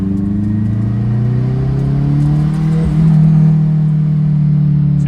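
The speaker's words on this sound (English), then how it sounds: "you're giving a light throttle, get up in the RPM, and let go of the throttle" Built F24 car engine during break-in, revved with light throttle: a steady close engine drone climbing slowly in pitch, swelling briefly near the end, with no talk.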